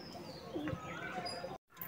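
Madras pigeons in a home loft give soft, low coos and a few small chirps over a busy room murmur, ending with a brief dropout.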